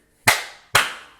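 Two sharp, close hand claps about half a second apart, each crisp and loud with a quick decay into silence.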